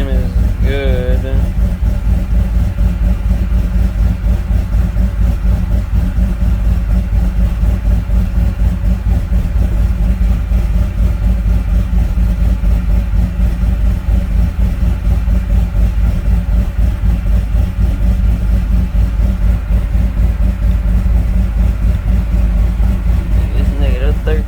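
A Chevrolet C10 truck with a swapped LSA 5.3 V8 runs loud and steady, a thick low engine drone held throughout with little change, close to the mic.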